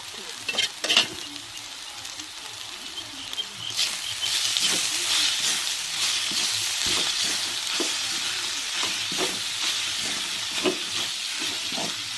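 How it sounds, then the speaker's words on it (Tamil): Fish puttu made from nagarai fish is stirred into sautéed onion tempering in a pan: a continuous loud sizzle and hiss with repeated scraping strokes of a spoon, steady throughout. "நம்ம ரெடி பண்ணி விரிச்சுக்க புட்டை வந்து தாளிச்சதோட சேர்த்துக்கிறோங்க"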